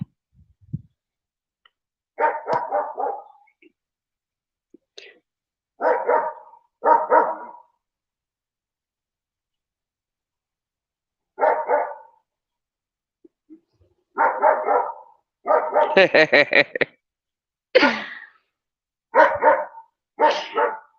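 Small dogs barking in repeated short bursts of yaps, loud and close, with silent gaps between volleys and a rapid flurry toward the end, no talking.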